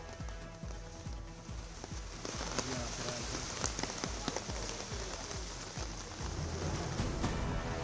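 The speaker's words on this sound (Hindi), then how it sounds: "जिले में लगातार हो रही भारी बारिश।" Heavy rain pours steadily onto surfaces, a dense, loud, continuous hiss with scattered sharper drop impacts that holds constant throughout.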